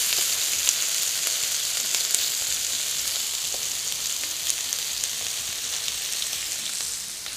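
Antipasti frying and roasting in a hot pan, giving a loud, even, hissing sizzle that holds steady throughout with faint crackles scattered across it.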